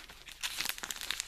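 A 1989 Smash Hits Panini sticker handled up close, giving quiet papery crinkles and small crisp rustles in irregular bursts that grow slightly busier toward the end, with no talking.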